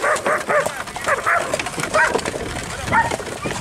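Several dogs bark and yip in quick, irregular bursts at a moderate distance outdoors near a plaza where a horse is shown, with birds calling in the background and no clear talk.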